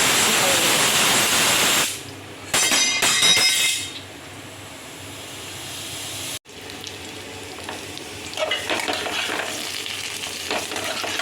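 Tamarind being stirred and fried in a pan for a quick pickle, bursts of sizzle and spoon scraping broken by brief quiet gaps, close and steady.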